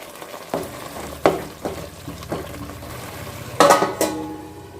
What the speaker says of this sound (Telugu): మనం మిక్సీ పట్టుకున్న ఆనియన్ టమాటా పేస్ట్ వేసుకుంటున్నాను ఇప్పుడు బాగా కలుపుకొని మూత పెట్టుకొని కొంచెం వేపుకుంటే సరిపోతుంది